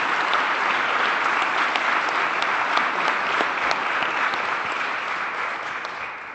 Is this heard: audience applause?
yes